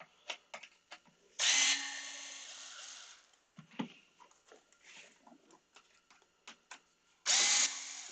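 Power drill backing out side skirt screws, two loud high-pitched whirring bursts of a couple of seconds each with clicks and handling knocks between them, close to the listener.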